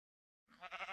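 Minecraft sheep bleating close by, a short burst that starts abruptly after a moment of silence and wavers over several pulses, alone with no talk.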